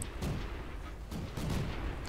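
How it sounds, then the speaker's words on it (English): Tank cannon of a Pz.Kpfw.38H735(f) in a video game, firing at targets: several heavy booming shots over a steady engine rumble, with a couple of louder reports spaced across the stretch. "Some targets here I'm shooting, but I'm not actually able to hit them."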